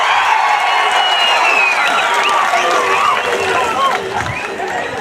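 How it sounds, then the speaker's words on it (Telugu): A large crowd at a political rally in Kavali claps and cheers in a dense, continuous roar of applause, loud and close, with scattered whoops and voices mixed in, tapering slightly at the end. "చేస్తామని గట్టిగా చప్పట్లు కూడా చెప్పాలి."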